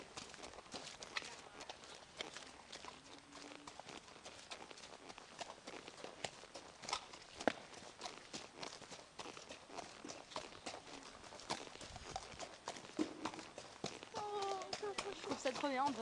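A horse's hooves beat in quick, uneven thuds as it gallops, fairly close and continuous throughout, with people speaking French intermittently over the hoofbeats.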